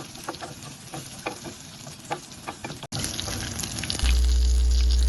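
Dried red chillies and crushed garlic fry in oil, a steady crackling sizzle with occasional stirring scrapes. A louder, hissier burst of frying fills the final seconds.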